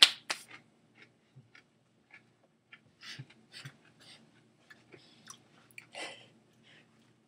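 Close, quiet chewing of bacon, with a sharp bite at the start and then a slow run of soft crunches and wet mouth clicks over several seconds, with nothing else heard.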